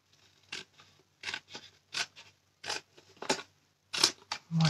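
Paper being cut with scissors while a small box is made, a series of about eight crisp snipping bursts in an uneven rhythm, close and fairly loud against a quiet background.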